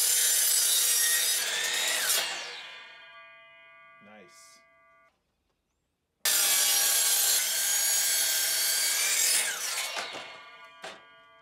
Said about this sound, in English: You can hear the saw struggling.